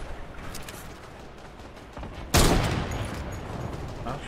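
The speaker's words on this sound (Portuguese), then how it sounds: "que tiro que eu errei" Gunfire in the video game Fortnite: faint scattered shots, then one sudden loud blast that rolls off into a long rumbling tail.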